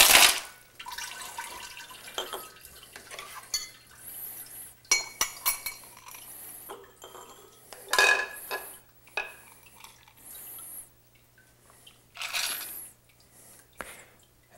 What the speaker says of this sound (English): I'm going to strain this into a cocktail glass.